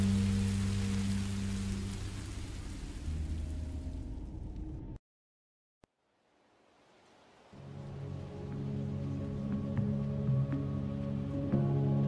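Steady rain from Minecraft Story Mode hisses in a dense wash with a low game tone beneath, cuts to near silence for a few seconds, then returns and builds back to a full, even downpour.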